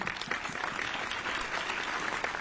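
An audience at a Hindi poetry recital gives a dense, continuous round of applause for a couple of seconds, moderately loud, with no voices over it.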